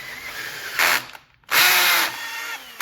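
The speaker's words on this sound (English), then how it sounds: "I then just run a tap down the holes. I have my drill on the lowest torque setting there" A drill set to its lowest torque drives a tap down bolt holes while replacing the water pump on a 1986 or later 60 to 70 HP Evinrude/Johnson outboard, giving two short close whirring bursts separated by a brief pause.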